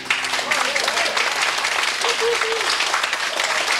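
Enthusiastic crowd applause at a New Year's Eve music show, loud and continuous with a few whoops and voices mixed into the clapping.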